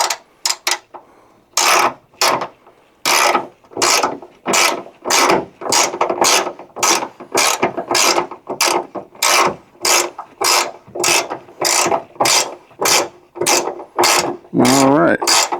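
Socket ratchet tightening a bolt on a ditch light bracket, a close, loud run of repeated clicking bursts in a steady back-and-forth rhythm, with brief pauses between strokes.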